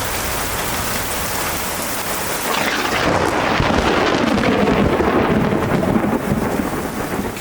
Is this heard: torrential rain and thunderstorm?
yes